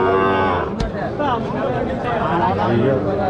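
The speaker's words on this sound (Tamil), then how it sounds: "எக்கச்சக்கமான பசு மாடுங்க நிறையா வந்துருங்க" Cattle low at a bustling village cattle market, a long, deep, drawn-out moo close by, set against a steady murmur of crowd chatter and people talking throughout.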